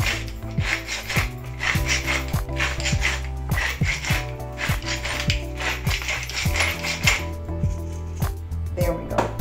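A pepper mill grinds pepper into a lemon chicken dish, giving a close, rhythmic run of scratchy ratcheting twists that repeat steadily.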